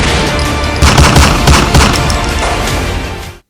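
Loud, dense burst of gunfire with rapid overlapping shots and booming thumps, like a fusillade from unknown assassins' guns, sustained for about three seconds and then cut off abruptly, with no voices.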